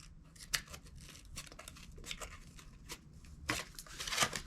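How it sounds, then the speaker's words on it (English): Cardboard shears snip through thin wall paneling for a bathroom inside a cargo trailer, giving a run of short crisp cuts with irregular rhythm, close and fairly quiet, with a few sharper snaps near the end. "we have these cardboard shears that seem to work really well"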